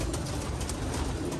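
A pigeon coos softly against a dense, noisy background, with a low bubbling call barely standing out over the steady hiss.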